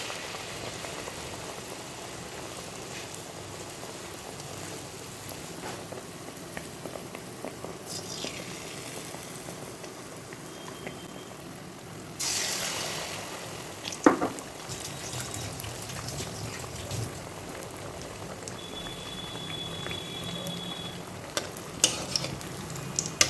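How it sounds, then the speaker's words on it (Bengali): Batter-dipped banana flower chops deep-frying in hot oil, a continuous crackling sizzle that swells louder midway as more chops drop in, with occasional clinks of a utensil. "প্রথমে এরকমভাবে ব্যাটারটাকে চুবিয়ে নিয়ে এভাবে গরম তেলে ছেড়ে দেবো।"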